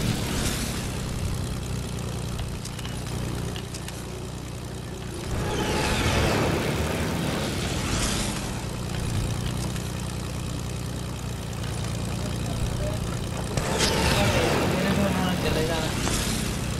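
The aircraft engine in the Fortnite video game drones steadily and loudly for the whole stretch, a constant mechanical roar with a few brief swells of wind-like rush layered on top.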